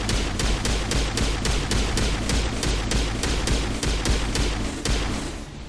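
Pistol fire in Mass Effect on Insanity difficulty: a regular, evenly spaced string of sharp shots, about three per second, loud and close over a constant background rumble.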